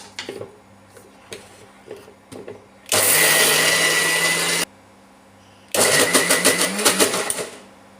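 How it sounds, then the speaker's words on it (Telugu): A mixer grinder whirs loudly in two bursts grinding soaked lentils for adai dosa batter, a steady grinding run of a couple of seconds, a pause, then a second run with pulsing, rattling texture. "దీనికి మూత పెట్టి మిక్సీ పట్టుకుందాం"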